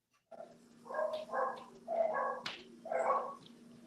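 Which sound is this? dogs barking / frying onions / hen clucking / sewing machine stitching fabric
dogs barking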